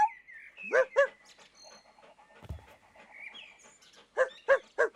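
A dog barks in short bursts, a pair early on and a quick string of three near the end, with quiet gaps between.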